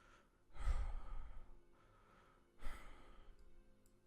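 A voice imitates a man sitting at a table breathing heavily, giving two loud, close, drawn-out huffing breaths about two seconds apart, each trailing off into a softer exhale.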